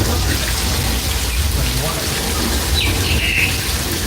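Heavy artificial rain on a movie set: large drops pour down in a steady, loud, dense hiss, with faint bird chirps near the end.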